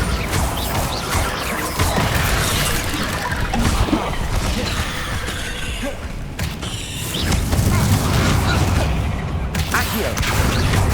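Bombarda blasting spells from Hogwarts Legacy detonate in rapid succession, a dense chaotic barrage of crashing booms and debris clatter that stays loud and close throughout, with brief dips between bursts.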